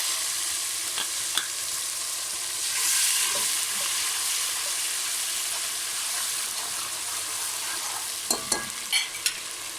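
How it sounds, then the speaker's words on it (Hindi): Onions and garlic-ginger paste sizzle gently in a pot on low heat for Lahori chikar cholay, with a steady soft frying hiss and a few scraping stirs near the end, up close with no talking. "प्याज रेड हो गए थे और लहसुन अदरक का पेस्ट इसमें हमने डाल दिया"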